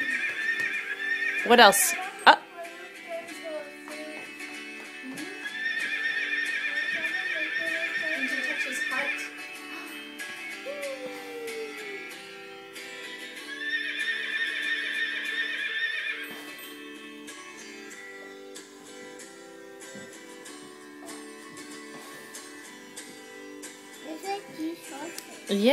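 An interactive songbook plays a horse neighing and hooves clip-clopping, with a sharp whinny near the start and recurring hoof rhythms, while an adult and someone talk over it.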